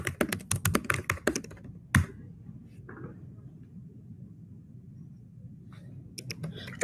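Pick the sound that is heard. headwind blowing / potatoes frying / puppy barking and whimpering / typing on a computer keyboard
typing on a computer keyboard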